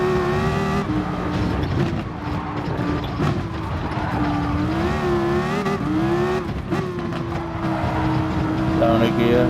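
A Dodge SRT Tomahawk race car engine screams at high revs through a video game Nordschleife lap, pitch rising and dropping with gear changes and braking, tire noise mixed in, continuous and close throughout.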